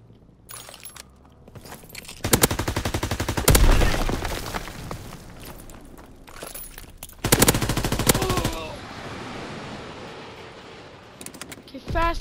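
Machine-gun fire in a WWII video game, arriving as two loud rapid bursts with quieter game noise and faint clatter between and after them.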